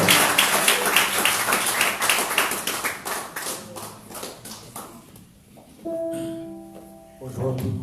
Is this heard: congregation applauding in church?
yes